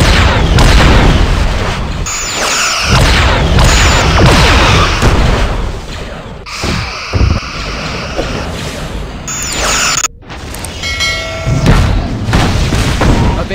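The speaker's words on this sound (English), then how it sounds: "Evading incoming torpedoes." Torpedo fire and explosions in a Star Trek versus Star Wars space battle game: loud rolling booms, crackling blasts and sharp weapon zaps layered densely, with a brief dropout near the end.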